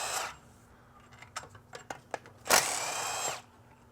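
A power tool runs on a truck's torque converter bolts during transmission removal. Short bursts of whirring and clicking build to one longer, louder buzzing run, close by with no voices.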